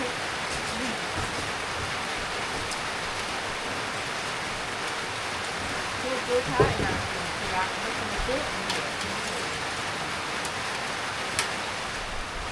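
Steady rain pours down at a morning open-air market, a dense broadband hiss with occasional louder splashes and drips, while people talk nearby.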